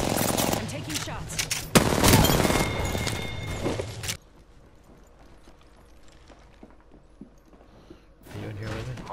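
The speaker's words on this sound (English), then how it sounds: "I'm taking shots." Gunfire in a first-person shooter video game, loud bursts of rapid shots followed by a quieter stretch of scattered game sounds, then another burst near the end.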